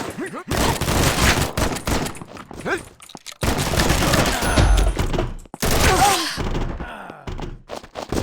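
Gunfire in the first-person shooter Combat Master: rapid bursts of automatic fire and heavy thuds crowd together, broken by a few brief silences, loud and close throughout.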